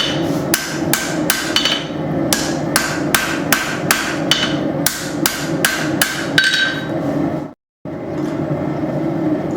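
A rounding hammer strikes steel while a knife handle is forged, ringing blows falling in a quick, steady rhythm, loud and close, with one brief pause near the end before the noise resumes.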